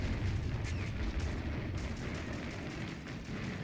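A Sherman tank's ammunition explodes in a war video game set in a D-Day style beach assault. Deep rumbling booms and bursts keep going throughout, with a few sharper cracks on top, and no speech.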